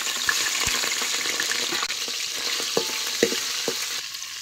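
Spice paste for mutton rassa fries in hot oil, a dense close sizzle with scattered stirring clicks and taps from a spoon, with no talking.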